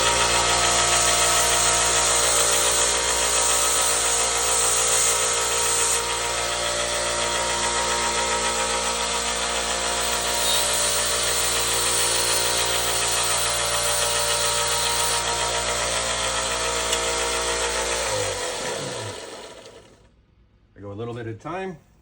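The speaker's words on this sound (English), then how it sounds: "and I use my belt sander here." A belt sander tapers the reed trigger of a boxcar jaw harp, a loud continuous motor whir with grinding that runs steadily for most of the clip before winding down and stopping, followed by brief handling noise.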